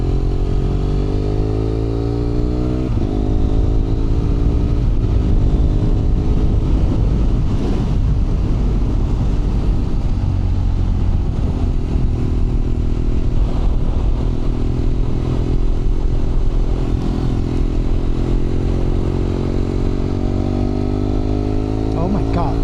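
BMW F800R motorcycle fitted with a HealTech QuickShifter, ridden at speed: a loud, continuous engine drone with shifting pitch as gears change, buffeted by wind noise on the microphone.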